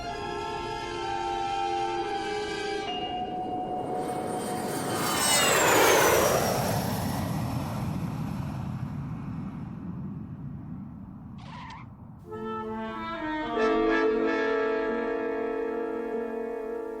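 Airliner engines on a landing approach in a radio drama, a loud sustained roar with a swelling whine near the middle, steady tonal hum throughout, a brief sharp burst near the end, no talk.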